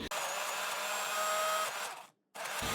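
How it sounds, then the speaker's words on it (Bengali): An electric blender whirs steadily as it blends boiled eggs with vinegar, oil and garlic into mayonnaise, running loud and close for about two seconds, cutting out briefly, then starting up again. "সময় নিয়ে নিয়ে ব্লেন্ড করতে হবে"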